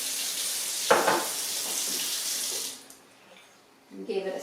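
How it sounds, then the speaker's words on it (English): Tap water runs steadily into a pitcher at a kitchen sink while beef stew is being made, a broad continuous rush that cuts off near the end, followed by faint handling sounds. "I'll fill the pitcher on up this time"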